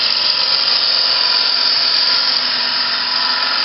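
A wood lathe turns a bowl at about 1,500 RPM while a gouge rides the bevel, giving a loud, steady, continuous hiss-like whine of cutting with no pauses and no talk.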